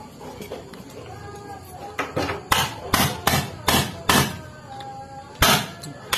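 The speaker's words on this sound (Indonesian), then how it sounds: "ini setelah kita bor, nah ini kita pantek nih, biar dia melepas si pakunya" Sharp metal hammer blows driving out a drilled rivet pin on a Honda CB series motorcycle clutch part, about seven loud, close strikes in an uneven rhythm, with quiet workshop background between them.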